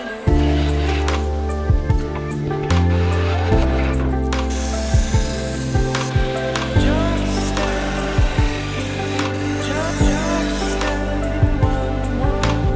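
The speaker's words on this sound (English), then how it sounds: "I'm gonna start with the disc sander for the outside curves." A disc sander whines steadily as outside curves of wooden Adirondack chair pieces are pressed against it, with repeated short scraping bursts as the wood touches the disc, loud and close with no talking.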